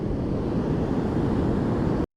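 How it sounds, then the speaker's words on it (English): Ocean surf on the Oregon coast breaks near the shore, a loud, continuous roaring wash with wind rumble that cuts off abruptly at the end. "you can see how close the waves are right now"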